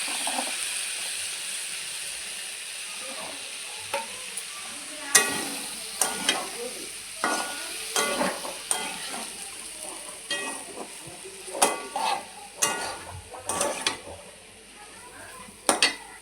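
Spice paste with paneer and soya chunks being stirred and fried in a pan, a steady sizzle broken by repeated sharp scrapes and clinks of a utensil against the pan, close by and fairly loud.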